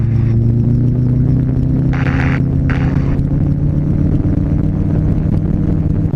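A gyroplane engine at full power during takeoff drones steadily and loud with a constant low hum and throbbing, while two brief bursts of radio or intercom crackle cut in near the middle.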